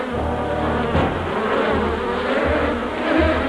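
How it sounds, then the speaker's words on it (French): A steady, close mosquito buzz whines on without pause, a thin insect drone with no voices over it. "quelque chose a fait fuir ces moustiques"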